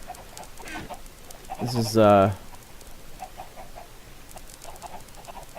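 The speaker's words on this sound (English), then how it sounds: "the chicken's just swimming. A whole bunch of them." Chickens clucking in the modded Minecraft pack Agrarian Skies, with a brief burst of sharp clucks from a group of birds just before someone talks over the scene.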